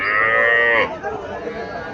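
A Sahiwal heifer calf lets out one loud, close moo lasting under a second, followed by quiet farmyard background.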